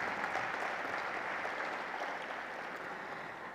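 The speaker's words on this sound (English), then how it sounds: "Can we have a round of applause for all the dignitaries on the dais?" Dense, steady audience applause for dignitaries on the dais at an environment and sustainability summit, a continuous wash of many hands that fades slightly toward the end.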